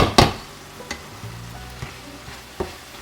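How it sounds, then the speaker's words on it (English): Garlic sautéing in a pan for a crockpot recipe, a soft continuous sizzle punctuated by a loud clatter at the start and a few sharp scrapes and knocks of a utensil against the pan. "Get that garlic sauteed a little bit."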